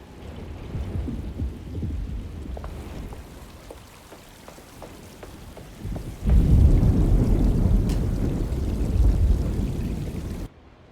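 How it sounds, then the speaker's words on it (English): Thunderstorm in the horror game Alone in the Dark: steady rain hiss with a low rumble of thunder that swells into a loud, sustained roll midway before cutting off abruptly. "Looks like a storm's coming."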